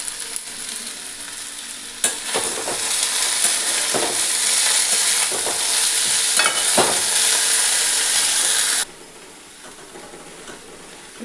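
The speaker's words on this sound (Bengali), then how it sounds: "এরপরে দিয়ে দিচ্ছি লাউ ডগাটা দিয়ে দিচ্ছি। এটাও একটু ভাজা ভাজা করব" Bottle gourd stems frying in a pan and stirred give a loud, close sizzle, punctuated by several distinct scraping strokes. The sizzle drops abruptly to a quieter hiss near the end.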